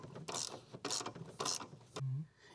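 A ratchet drives a Torx 50 seat belt bolt home in three quick bursts of close, rapid clicking, separated by brief pauses, followed by a short low creak.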